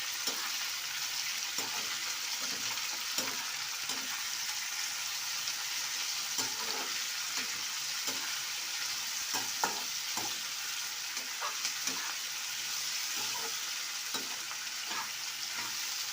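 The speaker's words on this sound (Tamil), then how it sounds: "நம்ம எல்லா இடமும் வெங்காயம் கலந்து விட்டுக்கிட்டு ஒரு 2 நிமிஷம் அப்படியே வேக விடணும்" Onions with a little salt fry in a hot pan, a steady broadband sizzle running throughout with repeated soft scrapes and clicks of stirring, close and continuous with no talking.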